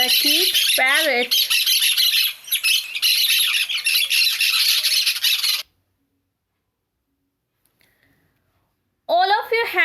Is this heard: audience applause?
no